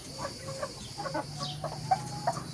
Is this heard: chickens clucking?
yes